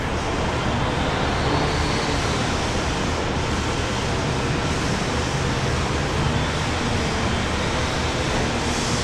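A Falcon business jet at Brisbane International Airport gives a loud, continuous broadband engine roar that holds steady throughout.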